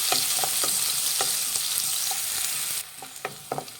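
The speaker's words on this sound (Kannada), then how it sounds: "ಫ್ರೆಂಡ್ಸ್ ನೋಡಿ, ಈರುಳ್ಳಿ ಚೆನ್ನಾಗಿ ಫ್ರೈ ಆಗಿದೆ." Finely chopped onion fries in hot oil with cumin for Punjabi bhindi masala, giving a steady close sizzle with spoon taps and stirring clicks at intervals; the hiss drops noticeably near the end while the stirring continues.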